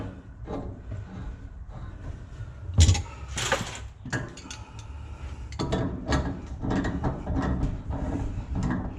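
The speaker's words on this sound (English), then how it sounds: "Once it starts getting snug like that, you want to put your backer wrench on it" Wrench tightening a pipe fitting on a water heater gas line: close metallic scraping and clicking in uneven bursts, with a sharper clank partway through and a busier stretch of grinding clicks toward the end, no speech.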